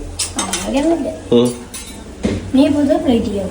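Fried chicken noodles being scraped from a pan onto a plate, with cutlery clinking against metal and crockery in a few scattered knocks under a man's conversational speech throughout.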